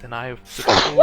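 A sneeze from someone at a tabletop role-playing game session breaks in right after a short line of speech, a sudden loud burst near the end of the brief moment.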